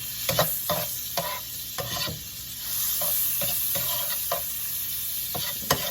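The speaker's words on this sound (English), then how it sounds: "So here we're using a non-stick pan, and we're just getting the sausage cooked." Sausage frying in a non-stick pan while being stirred, a steady close sizzle broken by repeated scraping and stirring clatters.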